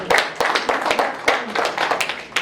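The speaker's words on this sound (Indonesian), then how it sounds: "Sebelumnya kita tepuk tangan dulu untuk Ibu pemateri ini sedikit" A small audience claps for a woman presenter at a public speaking session: a short, moderately loud round of individual hand claps in an uneven rhythm, with no talking over it.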